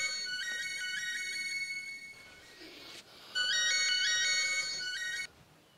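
A mobile phone ringtone plays a bright, repeating electronic melody, briefly dipping before resuming louder; it comes from a comedic village drama scene with no talking over it.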